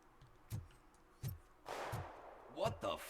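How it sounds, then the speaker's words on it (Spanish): Several sharp gunshots crack nearby in the video game RoboCop: Rogue City, spaced irregularly, with a longer burst of noisy rumble and a couple of quick shots near the end. "Disparos realizados en las proximidades."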